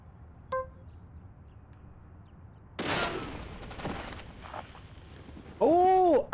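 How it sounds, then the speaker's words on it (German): Barrels explode in Deadly Premonition Origins: one loud blast in mid-moment trails into crackling debris, with brief tonal game sounds before and after. "das sind explodierende Fässer"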